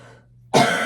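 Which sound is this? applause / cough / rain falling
cough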